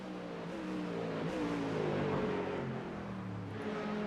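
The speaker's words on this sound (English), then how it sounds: "that Ford Mustang, it sounds good, doesn't it, Christian?" Ford Mustang race car in iRacing's multi-class IMSA event at Portland International, its engine note rising and falling through gear changes as it passes, moderately loud and alone without commentary.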